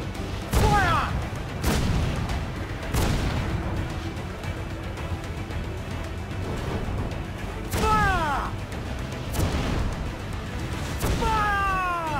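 Pirate ship cannons in Assassin's Creed IV: Black Flag boom repeatedly, about six heavy blasts in irregular succession, several followed by whistling, descending shell sounds, with shouted voices between shots.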